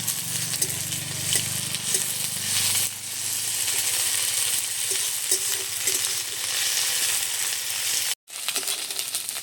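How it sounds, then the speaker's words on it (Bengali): Onion with garlic and ginger paste sizzles and fries steadily in a pan, with occasional stirring scrapes and a momentary break in the sizzle near the end. "একটু পেঁয়াজটাকে ভেজে নিয়েছি, এবারে দিয়ে দিচ্ছি রসুন বাটা"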